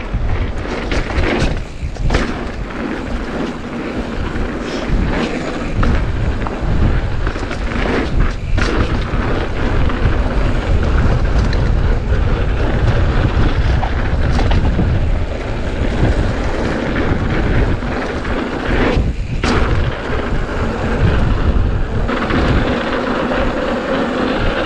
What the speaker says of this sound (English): it's getting windier and windier.